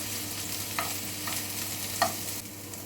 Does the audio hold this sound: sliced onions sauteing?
yes